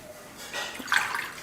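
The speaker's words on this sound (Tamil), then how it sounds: "ரைஸ் பத்திரி பண்ணுறதுக்கு தண்ணி ஊற்றிக்கலாம்." Water is poured into a pan in a home kitchen to cook rice flour for rice pathiri, a brief soft splashing stream that swells for about a second, close and fairly quiet, with no talking.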